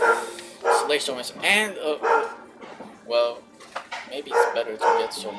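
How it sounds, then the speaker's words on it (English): A pet dog barks repeatedly in short sharp yaps, close and fairly loud, interleaved with someone talking over Hollow Knight gameplay. "If you hear a dog barking, well, that's because I have a dog that barks."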